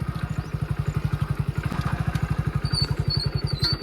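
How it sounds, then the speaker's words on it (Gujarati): Motorcycle engine thumping in a fast, even rhythm while riding between farm fields, close and steady, with faint higher chirps toward the end. "આપણને બીજો બાઇકમાં બેહારીને બીજા ક્ષેત્ર લઈ જાય"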